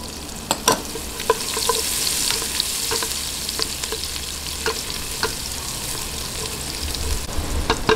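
Chopped garlic frying in butter or margarine, sizzling steadily and close by, with repeated sharp clicks and taps of a spatula stirring through the pan.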